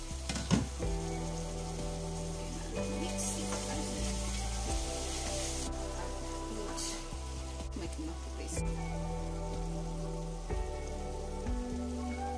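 Beef and spinach cook in a pan with tomato paste, a steady close sizzle and crackle like rain on a surface, with faint background music and no talking.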